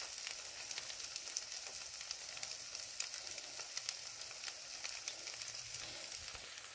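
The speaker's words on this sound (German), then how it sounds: "Jetzt braten die so ein bisschen vor sich hin." Zucchini and carrot patties fry quietly in a pan, giving a soft, even sizzle with occasional small crackles, fairly faint and continuous, no voices.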